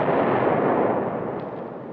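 Artillery fire in a 1951 war film: a heavy, sustained rumbling boom that fills the moment and slowly fades, with no voices over it.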